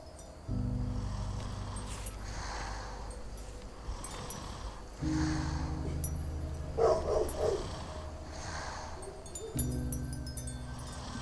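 A dog barks repeatedly in short bursts at some distance, with a low steady hum running underneath and a brief rattling noise partway through.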